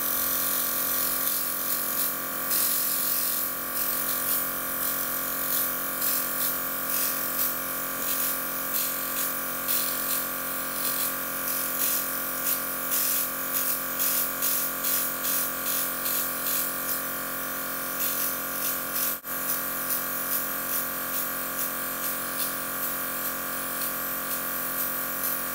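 An airbrush spraying foundation makes a steady close hiss over a constant compressor hum, with rapid pulsing bursts of spray through much of the stretch.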